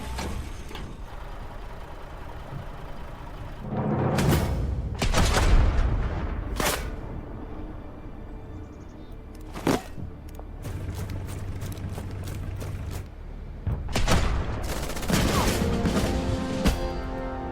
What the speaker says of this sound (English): Artillery, come on, hit him!